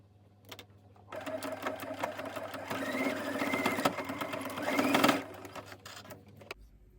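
Close up, a sewing machine double stitches a breathable fabric face mask, a steady whirring needle chatter lasting several seconds that speeds slightly before stopping abruptly, with no voice over it.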